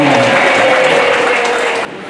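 An audience claps loudly in welcome for a new high school headmaster and his wife, a dense steady burst of applause close by that cuts off abruptly near the end.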